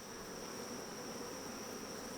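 Honeybees at a long hive during a heavy nectar flow, giving a steady, dense insect buzz close by with no breaks, alone and without talk.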